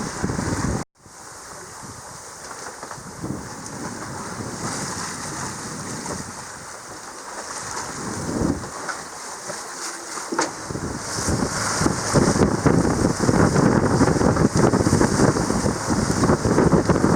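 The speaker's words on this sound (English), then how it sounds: "Storms in our way." Steady, gusty wind roars with rushing sea noise aboard a sailboat in the northern Mozambique Channel as a storm approaches, loud and continuous, with a brief dropout early on and growing force toward the end.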